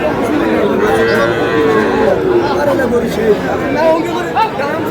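Cows lowing repeatedly at the traditional Aftabganj cattle market in Dinajpur, Bangladesh, where young Sahiwal bulls are sold; moos rise close and loud over a constant crowd murmur with people chattering throughout.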